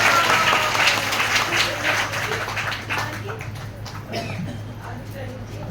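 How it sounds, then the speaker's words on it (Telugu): An audience claps together at an ISKCON Bhagavad Gita gathering, a dense rattle of many hands that starts strong and gradually thins and fades, with a steady hum underneath. "ఒకసారి చప్పట్లు కొట్టండి అందరూ."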